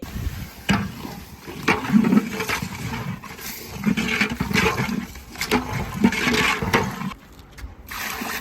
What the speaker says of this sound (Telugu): నీళ్ళు కూడా పోస్తున్నారు.